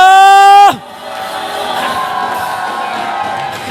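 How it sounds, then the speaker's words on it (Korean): A congregation shouting and cheering at a church worship concert, a loud sung note cutting off into a sustained crowd roar with whoops. "함성!"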